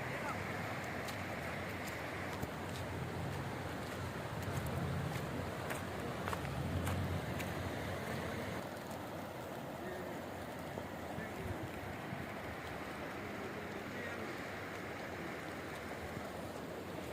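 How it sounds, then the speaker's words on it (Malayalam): Fast-flowing floodwater after fresh rain at Jebel Akhdar, Oman, rushing in a steady broadband roar that continues throughout, with wind buffeting the microphone and some talk over it. "ഇപ്പോൾ കേട്ടോ നല്ല സ്പീഡിൽ തന്നെ വെള്ളം ഒഴുകുന്നത്."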